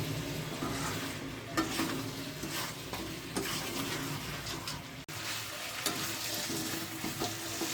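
Spices with turmeric and salt frying and being stirred in a pan for a small-goat mutton and potato curry, a steady close sizzle with scraping stirs throughout.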